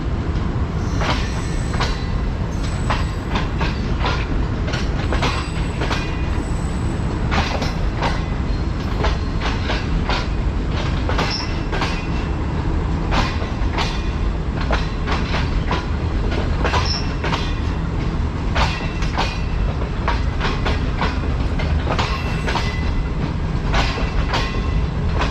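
Clickety-clack of the Six Down passenger train, on the Tezgam route in Pakistan, rolling past at steady speed with a continuous dense rumble and rapid repeated wheel clicks over the rail joints, loud and close throughout with no talk.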